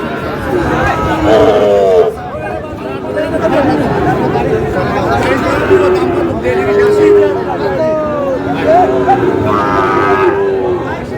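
Several Sahiwal bulls moo in long, rising and falling calls, one after another, over a steady crowd murmur and chatter nearby at a cattle sale.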